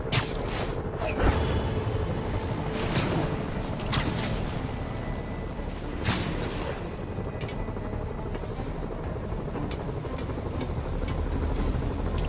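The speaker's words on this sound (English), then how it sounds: "Bet I can use those helicopters to swing." Helicopter rotor drone in the Marvel's Spider-Man video game, a steady loud thrum across the whole stretch, punctuated by several sharp whooshing swings and bursts.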